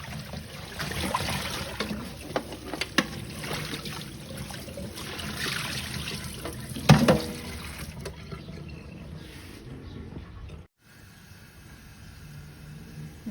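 Water splashes and trickles continuously as something is rinsed by hand, with brief louder sloshes, then the sound thins out near the end.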